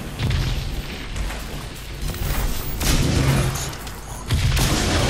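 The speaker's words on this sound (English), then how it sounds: "Something shooting at something." Gunfire and heavy thumping blasts in the shooter game Crysis 3, a dense, continuous barrage of shots and booms at steady loudness through the whole stretch, with bursts swelling in the middle and again near the end.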